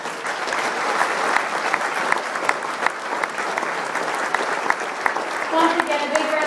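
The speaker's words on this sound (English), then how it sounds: "Once again, a big round of applause for your 1978 and 1980 Boston" An audience gives a round of applause honouring the 1978 and 1980 Boston team, sustained steady clapping throughout with a voice speaking over it near the end.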